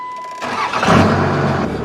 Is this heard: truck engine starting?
yes